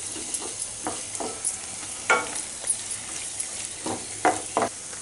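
Masala fries softly in a pan, a faint continuous sizzle broken by repeated scraping strokes of a spoon as it is stirred, close and unhurried with no talk.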